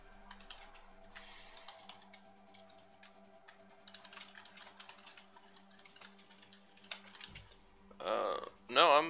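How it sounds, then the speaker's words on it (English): Computer keyboard typing clatters in quick irregular bursts, close but fairly quiet, under a low steady hum, ending with a few louder knocks and rustles. "Oh, please excuse the keyboard you're about to hear."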